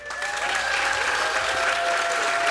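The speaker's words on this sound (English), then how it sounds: "give a thunderous round of applause to our ASL interpreters today" A crowd claps steadily in sustained applause filling the room, with a faint tonal ringing underneath.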